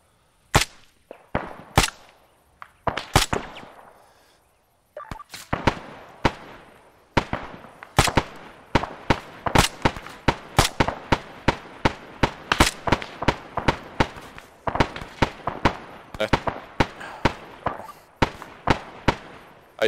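Video game gunfire rings out in sharp, crisp, close shots, fired singly and in quick irregular clusters with short silent gaps between, carrying on steadily throughout.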